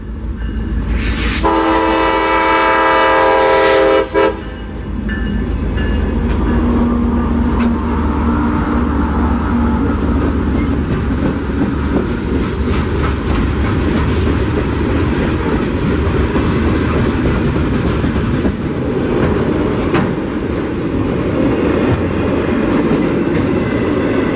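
Freight train Q452 led by an SD50-3 locomotive passing at Fairbanks Street in Central Florida, a loud chime horn blast opening, then the heavy rumble and clatter of cars rolling past close by.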